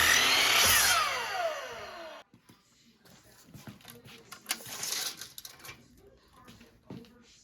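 A power saw cuts through a 4x4 wooden post in a loud, close burst that winds down after about two seconds, followed by quieter knocks and handling of the wood.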